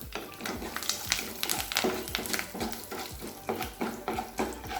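Curry leaves, asafoetida and urad dal crackle in hot oil for onion chutney, a close, lively sizzle broken by repeated rhythmic scrapes and taps of a spoon stirring the pan.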